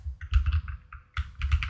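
Rapid bursts of keystrokes on a computer keyboard, close and distinct, in two clusters separated by a brief pause, with no talking.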